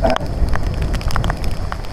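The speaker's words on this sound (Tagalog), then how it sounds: "ramdam mo na yung malakas na ulan at saka hangin" Heavy rain and gusting wind during a typhoon on a highway in Taiwan, a loud dense patter with scattered sharp drop hits over a low rumbling roar, close and continuous.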